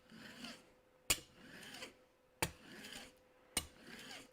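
A hand plane blade is drawn along during sharpening, making three slow rasping scrapes in a steady rhythm, each marked by a sharp click, close by and fairly quiet.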